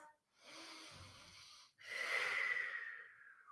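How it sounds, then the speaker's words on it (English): Deep breaths during a leg and hip stretching exercise, a soft slow inhale followed by a longer, louder, slightly wheezy exhale, close and alone. "One more time, deep breath."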